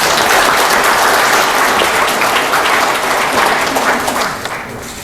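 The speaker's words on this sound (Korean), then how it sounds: "박수 한번 부탁드립니다." Audience applause fills a forum hall at the National Assembly Members' Office Building, a steady dense wash of many hands clapping at once that carries on throughout and eases off slightly near the end.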